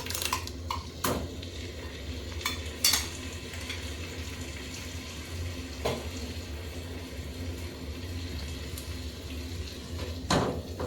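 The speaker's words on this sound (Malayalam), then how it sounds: "ഈ തക്കാളി ഇനി നല്ലതുപോലെ എണ്ണയിൽ കിടന്ന് നല്ലതുപോലെ വഴന്ന് വരണം" Chopped tomato cooking in hot oil in a pan after softened onions for chicken liver fry; a low steady frying hiss runs throughout, broken by several sharp clinks of a utensil against the pan.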